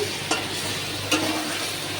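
Spices for egg curry fry steadily in a pan with a constant sizzle, broken by two distinct scrapes of a spoon stirring, close and alone.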